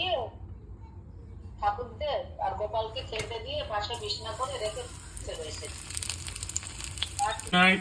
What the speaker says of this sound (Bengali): আলুকে বেসনের মধ্যে দিয়ে ভাজছে